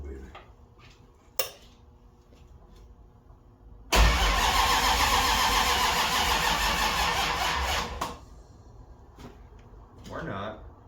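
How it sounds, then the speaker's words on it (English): A Mopar W2 340 V8 in a 1970 Plymouth Duster with mufflers cranks and fires, roaring loudly for about four seconds before cutting out, with clicks and people talking around it. "W2 340 in the 70 Duster. First fire up with mufflers."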